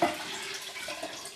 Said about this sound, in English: So now we have to add 2 quarts of filtered cold water per jar